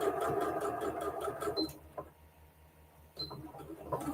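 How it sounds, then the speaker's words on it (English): A sewing machine stitches a stuffed fabric pillow, a fast mechanical whirring run that stops, a short pause with a faint click, then another burst of stitching. "So I just sew right up to my clip."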